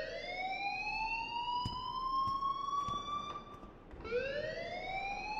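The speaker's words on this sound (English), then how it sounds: "please turn off that alarm since that's your job" A wailing alarm rings in the video game Life is Strange: a loud, steady siren-like tone that climbs in pitch, dips briefly near the end, then rises again, with a few short clicks over it and no talk.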